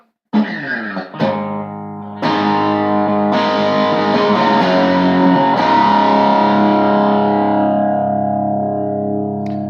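An electric guitar plays through a loud, crunchy 1970s Marshall amplifier: a couple of quick strums, then a big sustained chord ringing out with rich overdrive.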